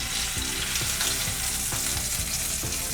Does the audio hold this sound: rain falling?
no